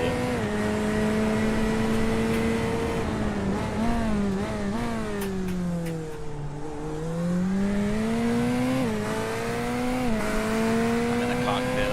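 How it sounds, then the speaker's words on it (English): Race car engine in a sim racing game at Spa, heard from the cockpit as a loud, steady drone that dips and climbs through shifts, with a voice talking over it. "I want to hear how this engine does"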